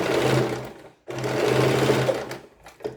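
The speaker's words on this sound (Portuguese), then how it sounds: "vou costurar em 2 centímetros" Sewing machine stitching fabric up close, two steady loud whirring runs split by a brief stop, with a short extra burst near the end.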